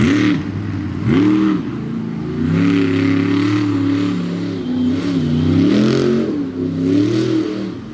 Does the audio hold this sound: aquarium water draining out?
no